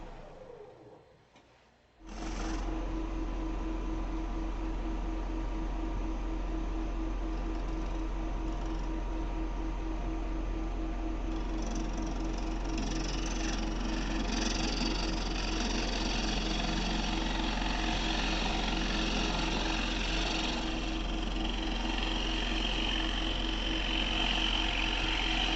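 Wood lathe spinning at high speed while a square piece is turned: a steady, loud mechanical hum and rumble running continuously after a short quiet start, with rougher grinding texture coming in partway through.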